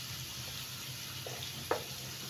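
Garlic and shrimp sizzling in butter in a pan, a steady soft frying hiss with a couple of faint pops and one small clink, close and quiet, no talk.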